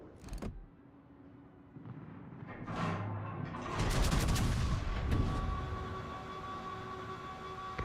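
A torpedo strikes a warship in World of Warships, a heavy rumbling impact that swells into a sustained roaring explosion with crackling debris, loud and close over low game ambience.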